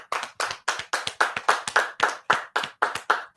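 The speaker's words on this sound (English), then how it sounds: "And we clap it up" Rhythmic group clapping at a religious law class: sharp, evenly spaced claps land about three times per second in unison, close and crisp, with no talking over them.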